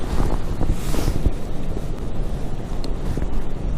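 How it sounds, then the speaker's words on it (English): Strong wind, with hail falling, roars across the exposed summit of Great Dodd, a Lake District fell, as loud, constant gusty buffeting against the microphone with no talking. "in the hailstone and the wind, freezing your nuts off."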